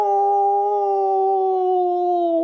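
A human voice imitates a wolf howling, holding one long, steady, wavering howl from start to finish, close and loud.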